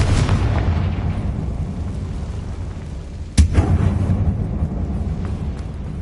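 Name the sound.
Confringo blasting spell explosion in a video game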